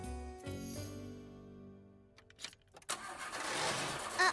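A cartoon car's engine struggles to start in cold, snowy weather, with tonal chimes giving way to a sputtering crank and a rising burst of engine noise, fairly loud with no speech.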